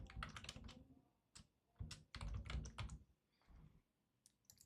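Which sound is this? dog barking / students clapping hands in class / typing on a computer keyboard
typing on a computer keyboard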